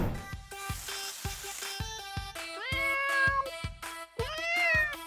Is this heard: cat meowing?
yes